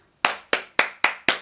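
Five sharp, evenly spaced hand claps ring out close and clear in a quiet room, each one a crisp snap with a short fading tail.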